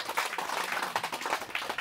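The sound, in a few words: audience applause at an opening ceremony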